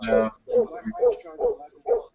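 A dog lets out a run of five loud barks in an even rhythm, close by, with short gaps between each.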